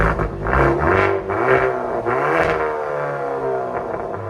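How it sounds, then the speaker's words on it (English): A Hyundai Kona N with quad exhaust tips and its exhaust valve closed, revving in a few rising and falling pulls, loud and close with a muffled rumbling tone and no pops, with no voices. "So this is with the valve closed, guys."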